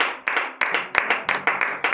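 A church congregation claps in steady rhythm during morning prayer, a run of sharp, fairly close hand claps about every third of a second, each followed by a short decay.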